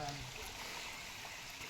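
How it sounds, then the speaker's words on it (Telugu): Water running down from a hillside near the Ahobilam temple in Andhra Pradesh, a steady close trickling and streaming wash that continues evenly throughout. "ఇక్కడ చూస్తే మీరు నీళ్ళు అలా కొండలోంచి వస్తున్నాయి"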